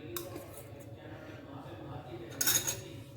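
A metal spoon scrapes and taps against a mug holding brownie batter of flour and other mixed ingredients, with soft scraping throughout and a brighter clink burst near the end.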